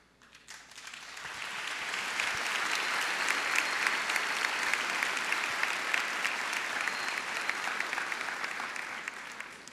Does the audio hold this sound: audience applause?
yes